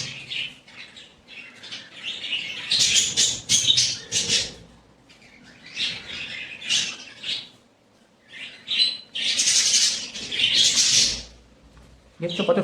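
Flock of birds feeding at a feeding spot on a rainy day, with dense bursts of chirping and wing flutters that rise and fall across the scene, a voice talking intermittently beneath them.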